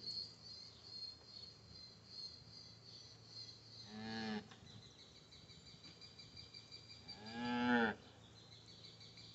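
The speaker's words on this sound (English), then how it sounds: "That cow says hello." A cow moos twice, several seconds apart, in long, low, drawn-out calls. The sound is quiet and a little distant, with a soft insect chirr in the background.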